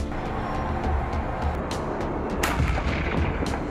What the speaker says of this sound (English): The Leopard 2 is equipped with a 120mm smoothbore gun, which can fire a wide variety of rounds